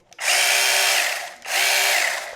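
A compact cordless mini chainsaw with a brushless motor and 15 cm bar, part of a Grand pruner-and-saw kit, revs up in two close, loud bursts of high whine, each spinning up, holding briefly, then winding down.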